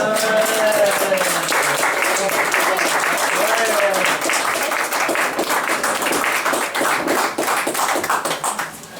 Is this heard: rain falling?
no